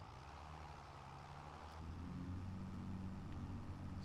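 A tractor engine idles steadily in the farming game Farming Simulator 25, a low continuous drone that grows slightly louder and deeper about halfway through, heard alone without any talk.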